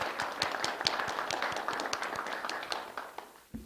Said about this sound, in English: That was her husband who started the applause